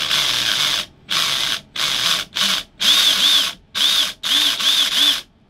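A 3D printer extruder fitted with a newly installed spur gear whirs in loud, close bursts, about eight short runs of grinding gear noise separated by brief silences.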